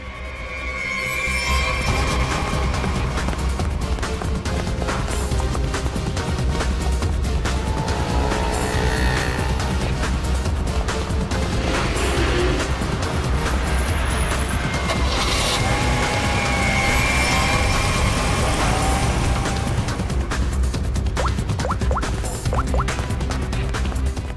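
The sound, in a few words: getaway car driving off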